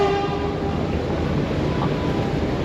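Metro subway train in New Delhi rumbling steadily nearby, a loud continuous roar of wheels and carriages with a brief horn tone at the start, no talking.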